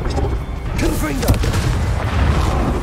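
The Confringo blasting spell exploding in the game Hogwarts Legacy: a deep, rumbling boom with crackling debris, heard under a voice shouting in the moment.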